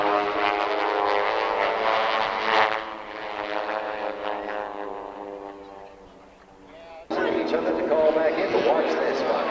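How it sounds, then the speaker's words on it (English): A propeller airplane performs aerobatics at the 1992 California International Airshow in Salinas, its loud droning engine swelling, fading as it turns away, then surging back abruptly; an announcer talks over it. "That's Tom on the right now. Trying to turn his airplane around upside down."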